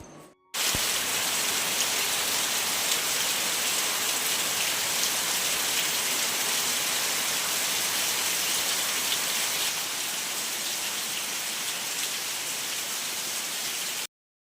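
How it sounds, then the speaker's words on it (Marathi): Heavy morning rain pours down in a dense, steady hiss that stays loud and constant without pause for the whole stretch, with no voices. "सकाळी सकाळी जोरदार पाऊस पडत होता"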